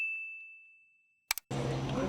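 Notification bell sound effect: a single clear ding with a long ringing tail that fades out, then two quick metallic clicks before a burst of louder noise cuts in.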